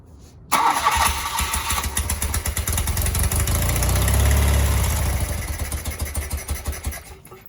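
Carbureted engine cranking and catching, then settling into a steady loud idle with a rumbling low throb that swells and eases slightly, close by with no talk.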